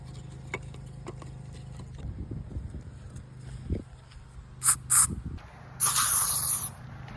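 Short hissing bursts of an aerosol bug spray can, two quick puffs followed by a longer spray, with faint handling noises in between.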